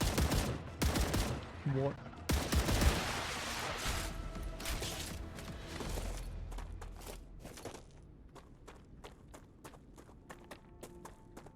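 A light machine gun fires in a video game. Dense, loud bursts come first, then a steady run of evenly spaced shots that grows quieter, with running footsteps and brief talk mixed in.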